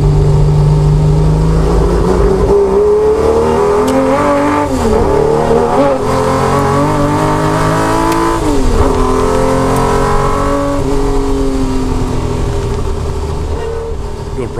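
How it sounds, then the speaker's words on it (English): Onboard a 1972 Holden Torana LJ XU1 race car with a 330 hp 202 cubic inch inline six, the engine roars loud and close, revving up and dropping through repeated gear changes. "Riding with Australian racer Andrew Williams in his extremely fast 1972 LJ-XU1 Holden Torana. It's powered by a 330 horsepower 202 cubic inch inline Holden 6"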